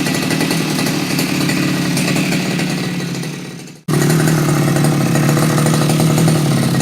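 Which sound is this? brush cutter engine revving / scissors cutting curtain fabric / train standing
brush cutter engine revving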